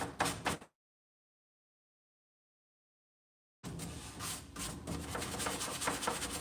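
Painted furniture surface being scrubbed with Dixie Belle paint products: a brief rubbing burst, about three seconds of silence, then steady, close, continuous scrubbing to the end.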